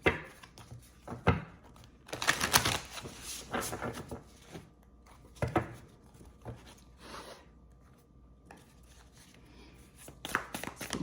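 An Angel Wisdom Tarot deck being shuffled by hand: irregular bursts of papery riffling and card slaps, some close and loud, separated by quieter pauses, with no voice.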